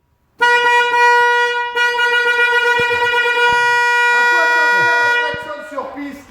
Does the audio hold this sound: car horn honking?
yes